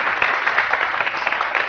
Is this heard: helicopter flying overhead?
no